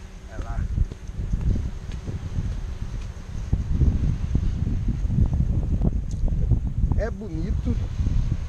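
Gusty wind on an Okinawa island batters the microphone with a loud, continuous low rumble throughout, while someone talks over it.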